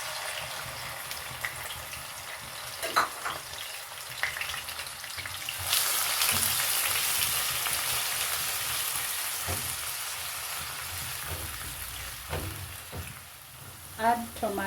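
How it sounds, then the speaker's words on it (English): Chopped onion sizzles in hot oil as the base for a fish stew, a soft continuous frying hiss with occasional stirring clicks and scrapes. The sizzle swells midway, then settles. "Add oil, go in with onion,"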